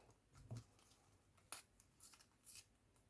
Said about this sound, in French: je vais venir déchirer un peu comme je le veux